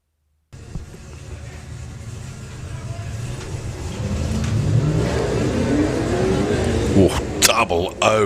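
An Audi drag racing car accelerates down the strip during qualifying at a national finals meet, its engine roar building steadily and climbing in pitch, with an announcer talking over it.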